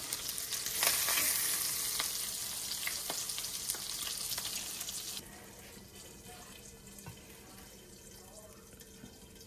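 Hamburger patties with barbecue sauce sizzle loudly in a pan, with bright crackling frying and a few clanks, before the sizzle drops to a quieter, steadier simmer.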